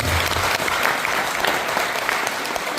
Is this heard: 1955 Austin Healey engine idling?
no